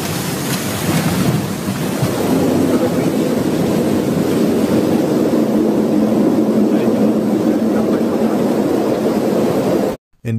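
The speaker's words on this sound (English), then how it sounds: "This plane is landing during the heavy thunderstorm, which makes it difficult for pilot to see the runway" An airliner comes in to land through a heavy thunderstorm, a loud, continuous roar of rain and rumbling wind that holds steady for the whole stretch before cutting off abruptly at the end.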